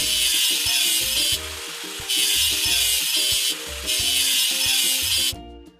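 Rust is scrubbed off a toy excavator in rhythmic back-and-forth strokes, a rasping, filing scrape in several bursts with brief pauses between, close and fairly loud, ending abruptly.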